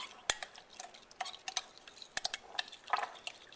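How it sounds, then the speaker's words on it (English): A spoon stirring yeast and sugar together in a bowl, producing quiet, irregular clinks and taps against the bowl's sides over a few seconds. "Now we're going to mix this together. Just stir it around."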